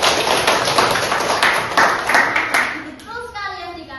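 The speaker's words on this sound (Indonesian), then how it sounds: "Oke, benar sekali, tepuk tangan." Schoolchildren in a classroom clap their hands together in a quick burst of sharp, close claps with a rough rhythm, fading out as a voice begins to speak.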